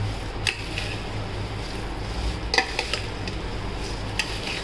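Poha chiwda is stirred and roasted in a pan, a steady low sizzle with occasional sharp scrapes and taps of the spoon against the metal, close and continuous, no talking.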